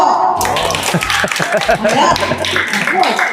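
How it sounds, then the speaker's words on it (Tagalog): Crowd applause with many hands clapping at a community feeding program in a barangay in Libmanan, dense steady patter over loud chatter and voices throughout. "Palakpak po."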